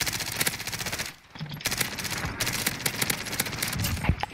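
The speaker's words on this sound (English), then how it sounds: "Why are you shooting at me?" Rapid automatic gunfire on Rebirth Island in a Call of Duty video game rattles in dense, sustained bursts, close and loud, pausing once briefly before resuming.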